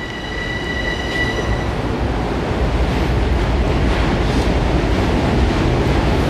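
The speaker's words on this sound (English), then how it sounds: "So here comes our train." A Long Island Rail Road Main Line train rolls into the station with a loud, steady rumble and rushing roar, a brief high squeal or horn tone at the start, no voices.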